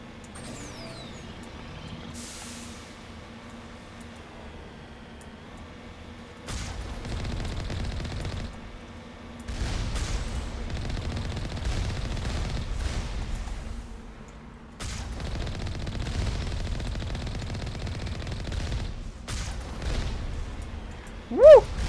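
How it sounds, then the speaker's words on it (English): Gunfire in the video game Mass Effect, a mix of bursts and rattling shots that rise and fall over steady background rumble, with louder stretches of sustained firing and no talking. "They're shooting, that's for sure."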